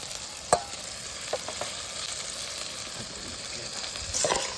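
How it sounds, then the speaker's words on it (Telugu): Spices temper in hot oil over an outdoor campfire cooking setup, a steady soft sizzle with a few sharp pops and stirring clicks, close but fairly quiet, no talk. "పోపు కూడా బాగా ఎగిపోయింది"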